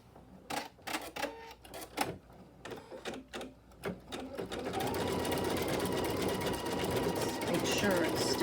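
A sewing machine runs a decorative stitch in peach thread, first in short separate bursts and then in one steady, continuous run.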